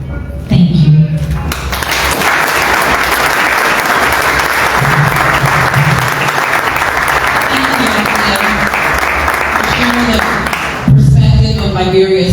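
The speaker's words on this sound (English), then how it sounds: "Ladies and gentlemen, can we give her another round of applause?" Sustained, loud audience applause at a World Bank Group Liberia partnership event, filling the hall for about ten seconds, with a voice briefly at the start and end.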